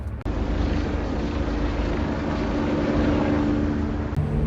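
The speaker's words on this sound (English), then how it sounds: "That helicopter is about to land on the roof of the hospital over there." A helicopter flies overhead near a hospital, a steady, loud engine roar with a low rotor-like drone, holding constant throughout with no voices.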